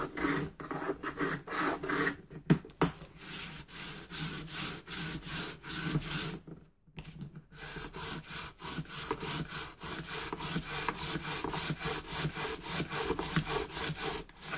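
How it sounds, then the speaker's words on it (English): Material is rubbed and burnished down hard onto a large backpack, making a rapid, rhythmic rasping scrub up close that continues almost without a break, with one brief pause partway through and no talk. "A good old rub, good old burnish."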